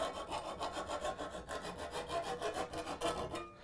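Hand file rasping burrs off the edge of a garden hoe blade, steady rhythmic scraping strokes close up and fairly quiet, no voices.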